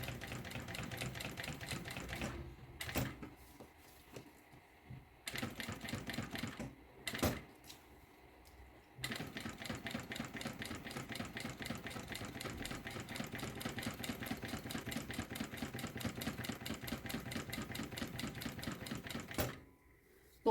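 Sewing machine stitching synthetic fabric with 60 nylon thread at a long 4.5 stitch length, a fast rattling needle clatter in several short bursts with pauses, then one long continuous run, close and fairly quiet.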